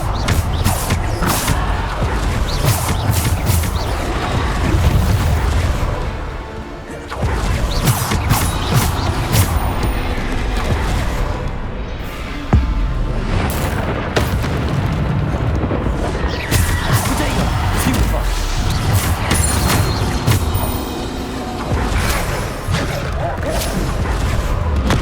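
Bombarda spell blasts in Hogwarts Legacy combat bang and crash repeatedly amid clattering impacts and mechanical creaks, loud and dense over a busy backdrop, with a voice calling out occasionally.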